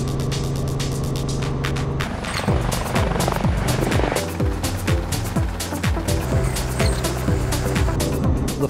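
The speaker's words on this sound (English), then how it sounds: "we're going to be flying one of the helicopters" A helicopter flies with a steady, throbbing rotor and engine drone, loud and close throughout and heard alone with no talking.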